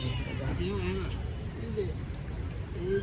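Several cats meow in short, rising calls spaced across the moment, close by, over a steady background murmur.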